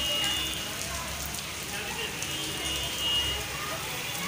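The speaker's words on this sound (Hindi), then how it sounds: "बहुत तेज़ बारिश हो रही है" Heavy rain pours steadily, a dense hissing patter on surfaces nearby, constant and loud throughout.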